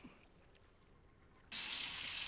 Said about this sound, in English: Sorry if you hear water in the background.